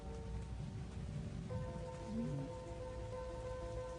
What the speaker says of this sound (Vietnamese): Cơn mưa đã giải phóng nguồn năng lượng bị dồn nén trong cả tháng trời.